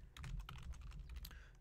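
Keys on a computer keyboard are tapped quickly in an uneven run of clicks, close and quiet, with no voice.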